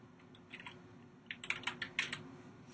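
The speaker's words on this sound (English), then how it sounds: "Let's just type in" Text is typed on a computer keyboard, a quick run of light close key clicks that speeds up in the second half over a faint steady hum.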